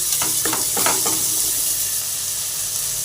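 Onions, tomato and green chilli fry in a pan with a steady close sizzle, broken by a few scraping stirs in the first second or so and then a continuous hiss.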